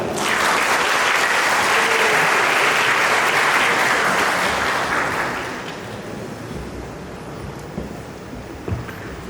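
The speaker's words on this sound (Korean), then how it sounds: "큰 박수 부탁드립니다" Wedding guests in a wedding convention hall applauding as the officiating pastor is introduced, loud sustained clapping that tapers off after about five seconds into quieter room noise.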